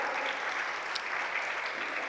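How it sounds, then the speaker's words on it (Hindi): Audience at a Hindi sermon in Ayodhya clapping, a dense steady applause of many hands, fairly close and even throughout without talk. "अपने पुण्य के लिए ताली बजा लो।"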